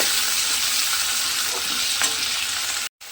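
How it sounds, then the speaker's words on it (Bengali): Tomato and spices are sautéed in a hot pan with a loud, continuous close sizzle and a faint stirring scrape, cutting out briefly just before the end. "টমেটোটা দিয়েও কিন্তু খুব ভালোভাবে মশলাটা একটু কষিয়ে নেব"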